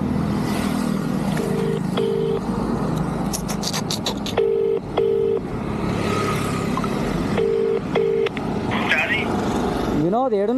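Mobile phone being dialed, short keypad tones in quick groups followed by repeated ringback tones, heard over outdoor traffic and someone talking.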